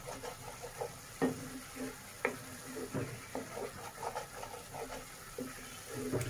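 Onions fry in a pan for Bhola fish curry, giving a faint, low sizzle broken by soft, irregular scraping and clinking as they are stirred, fairly quiet and close, with no talking.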